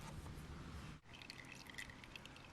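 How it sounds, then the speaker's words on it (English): Motor oil drains from the left crankcase plug of a 2002 Honda XR650L motorcycle into an oil pan, a steady close trickle and patter that continues throughout with a brief dip partway. "So the last of the oil, at least from this plug, is draining."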